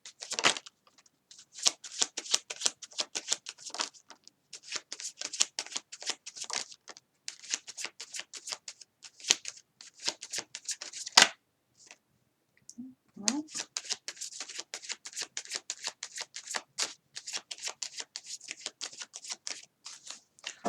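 Tarot cards are shuffled in quick, crisp bursts of riffling and flicking, close and fairly quiet, with brief pauses between runs and a short soft handling noise midway.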